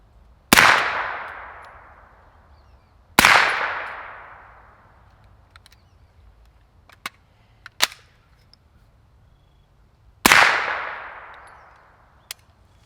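A suppressor-fitted RS9 9mm firearm fires 115 grain Monarch ammunition in three separate sharp cracks, each trailing off in a long ringing decay. Small clicks and taps fall between the shots.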